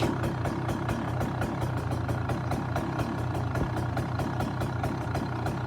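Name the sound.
two-stroke dirt bike engine idling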